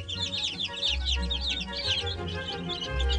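Araucana chickens, a breed that lays green eggs, cluck and chatter in a busy overlapping flock, with a steady low hum underneath throughout.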